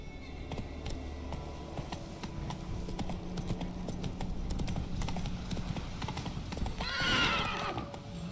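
Roach the horse gallops in The Witcher 3 with rapid rhythmic hoofbeats, and a whinny rises near the end, all loud and close.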